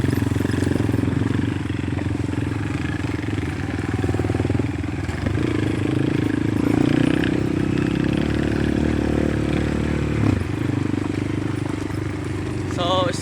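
Motorcycles ridden by daredevil riders rumble and idle nearby, with steady engine drone, clatter and a few revs, while people talk over the noise throughout.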